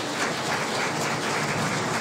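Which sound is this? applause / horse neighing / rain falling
applause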